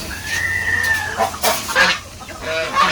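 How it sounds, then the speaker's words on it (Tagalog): A rooster crows nearby while several heritage-breed chickens cluck and squawk around it, a busy rural farmyard chorus with no talking. "Ayan nga manok sir."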